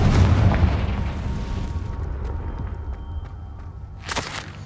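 A Confringo fire-blast spell in Hogwarts Legacy erupts as a heavy, rumbling boom that slowly decays, then a second short burst lands near the end.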